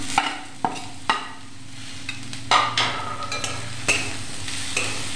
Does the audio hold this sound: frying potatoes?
yes